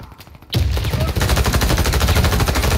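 Rapid automatic gunfire in the first-person shooter Warface bursts in after a brief quiet moment, then hammers on loud and continuous, each shot a fast evenly spaced crack.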